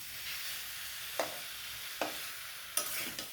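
Amla pickle with melting jaggery slowly stirred in a pan over low heat, with three or four soft scraping strokes over a faint steady hiss, quiet and close.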